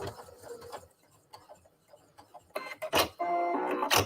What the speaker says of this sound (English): I'm going to press my start button, and it's going to sew that button